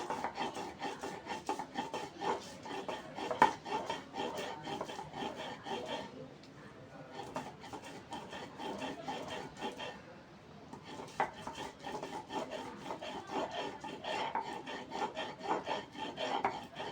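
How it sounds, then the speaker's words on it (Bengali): Ginger being ground by hand on a sharp grinding stone, a continuous rough rasping and rubbing rhythm of stone on stone, close and steady, with a brief lull midway before the scraping resumes. "এবার এখানে আমি আদাটাও বেটে নেব।"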